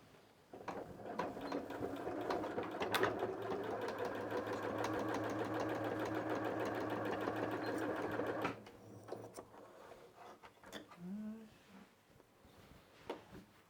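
Sewing machine top-stitching a crazy quilt in one steady continuous run of rapid rhythmic clatter, then stopping, with a voice speaking quietly over it.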